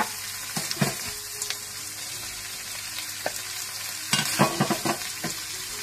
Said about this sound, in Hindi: बोनलेस चिकन अच्छी तरह भूनने के बाद आप इसमें मशरूम्स और शिमला मिर्ची डाल दें